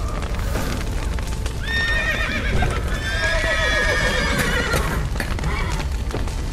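Horses whinny repeatedly over quick, rhythmic hoofbeats in the video game The Witcher 3: Wild Hunt, with a dense rumbling backdrop of galloping and action sounds.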